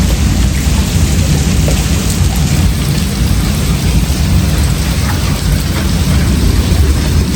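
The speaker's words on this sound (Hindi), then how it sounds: "बारिश अभी भी हो रही है।" Heavy monsoon rain pours down steadily in a dense, continuous hiss onto a flooded rooftop, with a deep low rumble of thunder running underneath throughout.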